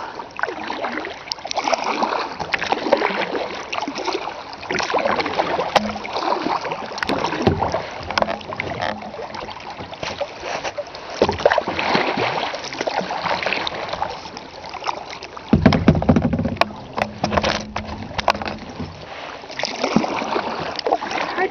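A kayak paddles through weedy water along a rocky shore: repeated soft splashes and swishes of the paddle, with rustling and dragging through weeds, close and continuous, with a louder stroke midway.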